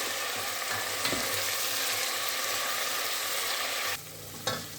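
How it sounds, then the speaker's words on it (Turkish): Ingredients for a Turkish lentil soup sizzle in melted fat in a pan, a steady bright frying hiss broken by a few soft stirring scrapes before it briefly dips near the end. "Biraz kavuruyoruz."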